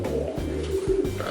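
Pigeons coo softly in a breeding loft, with a few short, low, throaty bursts at moderate distance and no talk.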